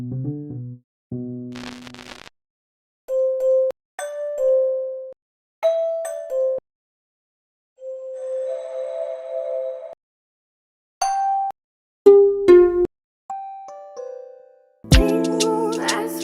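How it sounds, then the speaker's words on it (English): Bell-type synth tones play over a lofi remix, bright struck notes ringing out one at a time with gaps of silence between them, ending in a denser chord-like hit, with no voices. "I'm looking for a bell type of sound."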